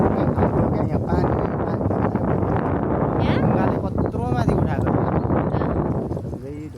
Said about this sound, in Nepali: एक्कासी हावा चल्थ्यो क्या है